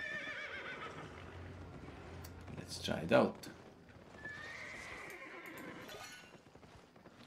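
A horse in the video game Albion Online gives a loud whinny partway through, with hooves clip-clopping faintly around it while someone talks quietly over the game sounds.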